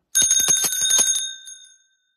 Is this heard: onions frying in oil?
no